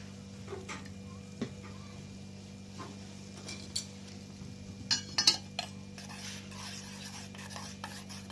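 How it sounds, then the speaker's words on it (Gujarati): A spoon stirs a homemade aloe vera and neem soap mixture in a pot, with faint scraping and a few sharper clinks against the vessel over a low steady hum. "સારી રીતે મિક્સ કરી દેવાની"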